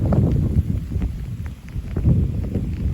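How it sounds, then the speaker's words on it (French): Strong wind gusting under a squall line storm front, a steady rushing roar that swells and eases, loud and close to the microphone with no voices. "Le vent a baissé en intensité puisqu'on est maintenant sous le... Et ça souffle bien quand même."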